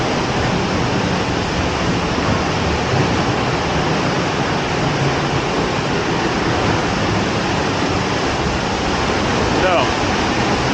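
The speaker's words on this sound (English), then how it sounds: "This is pretty cool how you can actually go underneath the waterfall and behind it." Roar of the waterfall at Silver Falls State Park heard from underneath and behind the falling water, a loud, dense, unbroken rush filling the whole clip.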